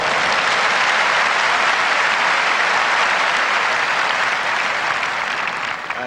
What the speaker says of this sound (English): Crowd responding very much indeed to anything that's well played by Mrs. Corley.